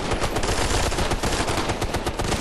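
Sustained LMG machine gun fire in the video game Ghost Recon Future Soldier, a dense, loud, unbroken rattle of rapid shots lasting the whole stretch, with no talk.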